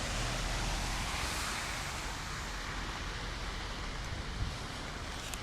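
Heavy rain pours steadily in Goiânia, Brazil, a dense, continuous broadband hiss close to the microphone, with no voices heard over it.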